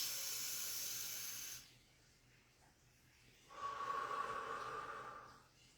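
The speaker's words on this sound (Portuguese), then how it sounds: "Eu vou fazer uma respiração mais forte para você ver" Two slow, forceful breaths through the mouth, a long airy exhale followed after a pause by a deep hissing inhale or exhale, close and otherwise quiet.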